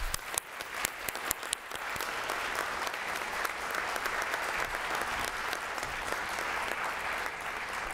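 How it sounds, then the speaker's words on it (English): Audience applause for panelists at a symposium on employment for people with hearing loss, a full, sustained round of clapping from a sizable crowd, a few sharp claps standing out early on, with no talk. "Can we have another round of applause for our panelists"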